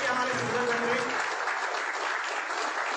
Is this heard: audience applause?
yes